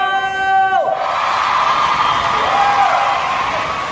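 A crowd at a costume wrestling show shouts and cheers loudly, with a falling whistle-like tone early on and sustained whooping and crowd roar throughout.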